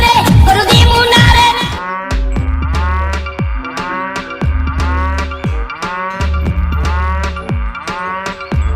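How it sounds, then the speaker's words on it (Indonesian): A spotted cow moos in a drawn-out, loud bellow, followed by a steady run of rhythmic low pulses that continue to the end. "Wow, seekor sapi belang."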